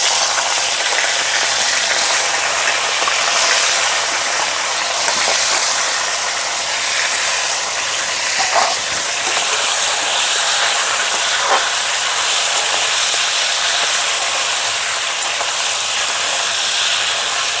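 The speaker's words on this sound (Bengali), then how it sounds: "মাছের মাথাটাকে ভালো করে ভেজে নেব।" A katla fish head frying in a pan: a loud, continuous close sizzle of hot oil that stays steady throughout with only faint crackles.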